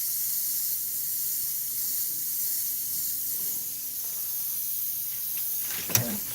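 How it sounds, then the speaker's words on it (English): An airbrush sprays paint in a steady, faint hiss that runs unbroken throughout, with a small click near the end. "I'm spraying it pretty heavy on the right. Gun is about 7 or 8 inches away."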